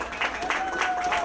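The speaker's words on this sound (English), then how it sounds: "we want to welcome with a great, great New Orleans round of applause" A crowd in New Orleans claps in a brief, dense burst of applause, heard over a continuing voice and somewhat distant.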